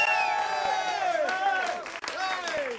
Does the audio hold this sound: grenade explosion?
no